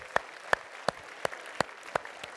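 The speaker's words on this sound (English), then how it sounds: "give yourselves a big round of applause" A seminar audience claps in slow, evenly spaced single beats, about seven sharp claps in steady rhythm, fairly close and otherwise quiet.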